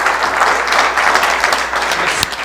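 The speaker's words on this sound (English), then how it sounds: "Let's give him a big round of applause." Audience applause for a speaker at a talk on fiberglass deck and hull restoration, a dense, loud, even wash of clapping filling the whole stretch.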